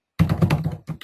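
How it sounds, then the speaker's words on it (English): Computer keyboard typing during an online webinar, a quick run of close, distinct key taps followed by a short pause and a few more taps, with no talking. "I am typing it into the chat now"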